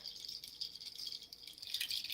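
A small seed pod rattle shaken close by, a dry, bright hiss of tiny grains with short swells.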